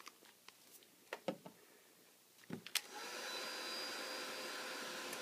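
A handheld heat dryer drying walnut-stained woodgrain stamping paper starts after a few light taps and rustles, then runs as a steady, even whir to the end.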